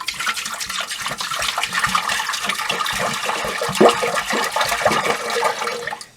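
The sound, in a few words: toilet flushing in a cottage being winterized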